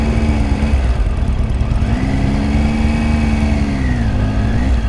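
A motorcycle engine rumbles steadily nearby, its pitch rising and settling as it revs, with no talking.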